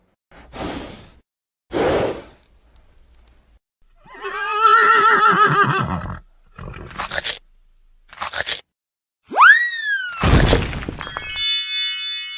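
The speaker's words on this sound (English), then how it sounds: "horse," A cartoon horse gives a loud, close neigh with a clear whinny and a quavering, pitched rise. It sits among short crunching bursts, whooshes and a bright rising chime effect, with silent gaps between the sounds.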